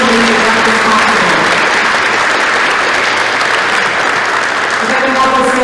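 A school audience at a Veterans Day breakfast applauds students and staff, a loud, continuous wash of clapping filling the room at close range for the whole stretch.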